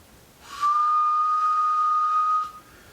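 A single steady, high whistle held for about two seconds, whistled into a CB radio microphone, carried over a Cobra 29GTL radio with a faint hiss before and after.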